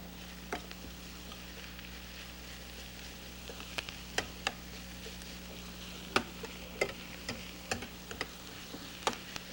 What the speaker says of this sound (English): So we saute those a few moments in the butter.